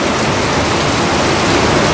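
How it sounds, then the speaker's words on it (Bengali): Heavy rain with big, fat drops falling in a steady, dense roar, loud and close throughout with no voices. "এদিকে বৃষ্টি এসেছে তাই তোমার দেখো কি মোটা মোটা ফোটা পড়ছে"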